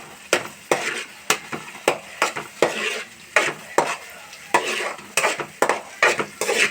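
Green chillies frying in a pan, with a run of rhythmic stirring clatters of a utensil against the pan over a soft sizzle.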